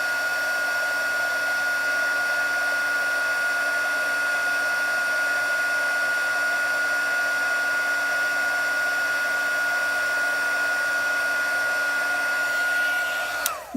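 Heat gun heat-setting embossing powder on a card, a loud, even blowing whine held steadily for over thirteen seconds before cutting off abruptly with a faint click.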